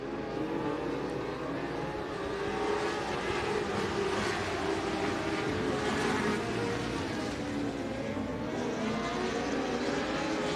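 Dwarf race cars roar steadily around a dirt oval at a championship night of the Dwarf Car Nationals, a dense continuous engine drone with no break, loud and close throughout.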